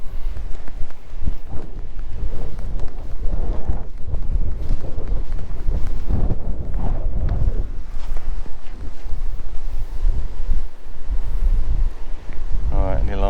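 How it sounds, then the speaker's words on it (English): Outdoor wind buffeting a microphone, a steady loud low rumble with gusting surges, while someone talks over it in the open countryside. "It's really difficult getting a good signal in the noise of the wind."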